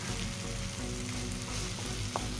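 Fish frying in a pan while being stirred for ginataang isda, a dense continuous sizzle with soft scraping stirs and a small clink near the end, no talking.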